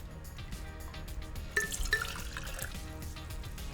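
Beef bone broth is poured into a jar, a soft, close trickle and gurgle of liquid with a few brief drips, fairly quiet throughout.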